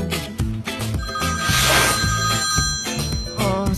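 A telephone rings in steady repeated bursts, loud and close, over a busy musical backdrop with no talking.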